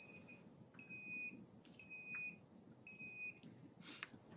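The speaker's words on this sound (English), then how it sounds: "We'll ignore the beeping" An electronic device beeps during a city council meeting, sounding four short, bright, evenly spaced tones over faint room murmur, fairly quiet overall.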